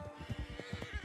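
A horse whinnies up close in Red Dead Online, a quick throaty series of pulsing neighs with a few soft hoof-like thumps, loud and alone.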